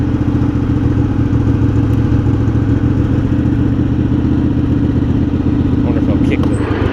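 Craftsman garden tractor engine idling low and steady, a loud, close, continuous rumble with light clatter, unchanging throughout.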